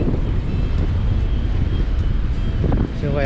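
Strong wind buffeting a microphone outdoors at a seaside fishing spot, a loud continuous low roar and rumble throughout with a brief high whistling tone near the end.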